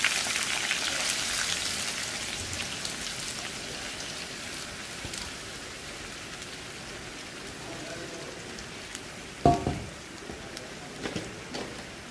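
Sliced bitter gourd with onion and chilli frying in hot oil, giving a dense, even crackling sizzle like steady rain that holds throughout, close up, with a brief clatter near the end.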